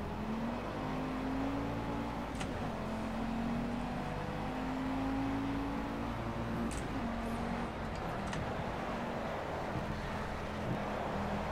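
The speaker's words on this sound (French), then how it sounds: "Voilà, je suis parti en drift direct" A car drifting on a rain-soaked track in the Project Cars racing game, a steady engine drone with shifting tone over constant wet road hiss, continuous and fairly even in level.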